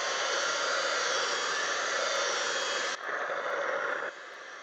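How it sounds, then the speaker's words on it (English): A heat gun dries mixed media paint on artist trading cards with a loud, continuous blowing roar that drops in level twice near the end. "so heat gun."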